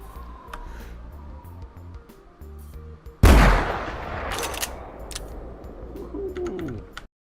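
A single loud gunshot rings out in theHunter hunting game, a sharp report with a long decaying tail, amid soft ambient bird calls and cooing before and after.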